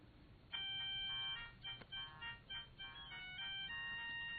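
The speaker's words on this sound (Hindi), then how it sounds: "फोन उठाओ" Phone ringtone in a Korean drama scene, a clear electronic melody that starts abruptly and repeats in tonal phrases, close and alone without any talk.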